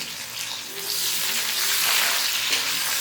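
Onions sizzle and crackle loudly in a hot pan, a constant hissing fry that swells slightly as it goes on, with no talking.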